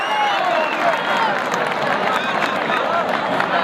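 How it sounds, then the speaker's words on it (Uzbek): At a village Navruz wrestling match, a large outdoor crowd applauds steadily, a dense wash of clapping with cheering and murmuring voices mixed in. "Safarov bobosini xotirasiga bitta qarsak"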